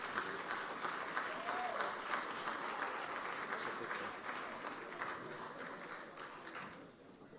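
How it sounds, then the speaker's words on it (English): Applause from the audience at a retail awards ceremony in St Albans, sustained and evenly dense for several seconds, moderately distant, fading slightly toward the end. "A round of applause, please."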